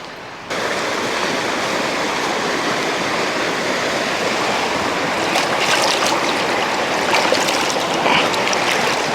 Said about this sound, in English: it looks like there's a little creek crossing here